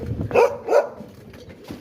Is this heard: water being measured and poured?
no